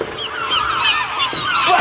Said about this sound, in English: Blasted birds! Get out of here!